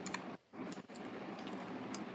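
Steady, faint computer keyboard typing, a dense run of soft clicks with a brief pause near the start, continuing without voices.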